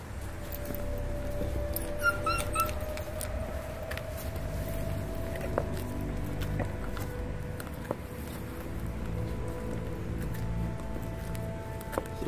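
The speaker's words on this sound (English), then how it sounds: "This is also teaching the puppies to eat in a group as a pack." Five-week-old Lycan Shepherd and Yorkie puppies eat whole pieces of raw fish together as a group, giving soft, steady chewing and feeding noises with an occasional faint whimper or yip, set against a constant low background hum.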